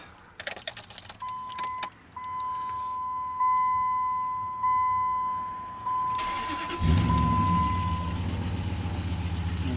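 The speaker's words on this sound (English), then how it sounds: "we'll take the keys and we'll fire it up." Keys jangle and clink near the microphone, then a 2003 Dodge Ram truck cranks and its engine catches, rising into a loud close rumble over the last few seconds; a steady electronic chime sounds through the middle.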